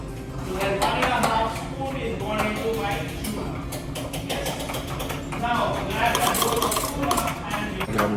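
Spicy tuna being mixed with a spoon in a plastic container in a cruise ship kitchen sushi class, with steady scraping and clicking throughout under near-constant talking.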